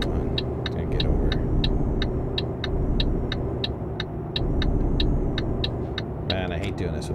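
Truck engine in Euro Truck Simulator 2 drones as a steady low rumble throughout, with a faint regular ticking on top and a brief clatter near the end.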